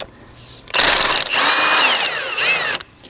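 A power tool whirs loudly up close while working a bolt out of the top of a Toyota engine mount, running in one sustained burst of about two seconds with pitch shifts as the load changes.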